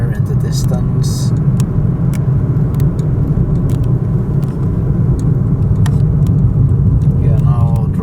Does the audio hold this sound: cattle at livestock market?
no